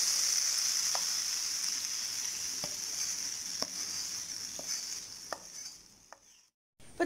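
Fried turmeric and chilli tempering poured into a fish curry gives a bright, steady sizzle, with faint scattered stirring clicks, before it cuts out abruptly near the end.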